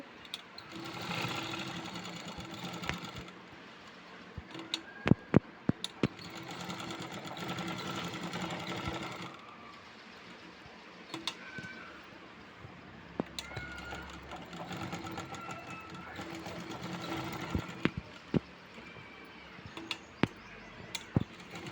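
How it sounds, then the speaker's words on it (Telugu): A sewing machine stitches a cut work blouse design with a steady mechanical whir, pausing midway before resuming, with occasional sharp clicks as the cloth is adjusted. "ఇలా స్టిచ్చింగ్ వేసుకుంటూ వెళ్ళాలండి"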